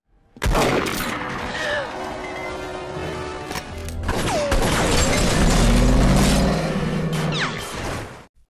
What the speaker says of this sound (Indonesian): Aksi ini membuat Samidi ikut menembak polisi lainnya